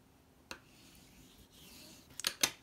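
Paper is burnished down while making an orange traveler's notebook journal: soft, faint rubbing strokes across the paper, with a couple of sharper scraping swipes near the end, close and quiet with no talk.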